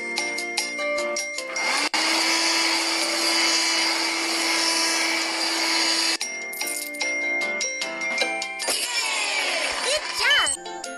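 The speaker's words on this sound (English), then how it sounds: "Vacuum here, too." Cartoon vacuum cleaner in a kids' cleaning video game, a steady synthetic whir running for several seconds at close range, framed by chiming game sound effects and a playful voice.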